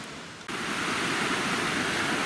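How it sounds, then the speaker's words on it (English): Small rapids on a creek in a river gorge rush in a steady, broad hiss, close and loud and continuous, rising suddenly a half-second in, with no voices. "It was this little set of rapids right here."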